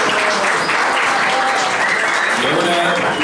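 Steady applause for a singer at a live presentation in the Claustro Menor de la UNSA, a dense, continuous crowd clapping throughout with a faint tonal sound mixed in.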